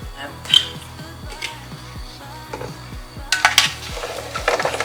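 Light clinks and scrapes of diced vegetables and olive oil being tossed on a metal baking tray, with short bursts of clattering, over low background hum and some faint talk.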